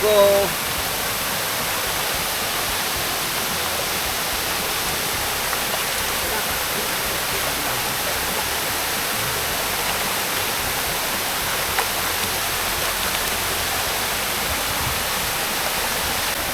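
Baliti Falls in Amadeo, Cavite pours in a loud, steady broadband roar of falling water that runs unbroken throughout, close and dense with no pauses.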